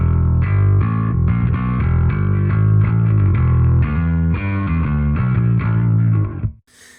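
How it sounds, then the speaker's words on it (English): Bass guitar played through an Ampeg B15N amp plugin. Thick, gritty, driven notes run continuously and loud, with no talk, then stop abruptly just before the end. "And my amp sound still sounds like this."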